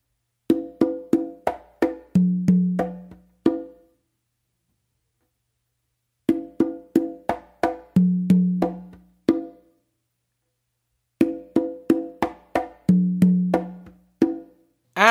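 Modern Patato-style tumbao played on conga: a quick run of slaps, ghost notes and booming open tones repeated three times with short pauses between, close and crisp with no talking.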